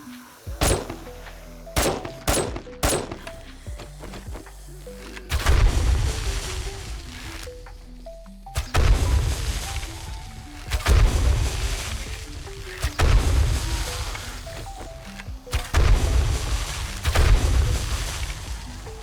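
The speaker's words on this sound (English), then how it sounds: "That was that switch shooting I was kind of telling you about" Rapid bursts from a switch-fire weapon in 7 Days to Die, heavy thumping shots in repeated volleys over several seconds, with scattered single booms and clatter in between.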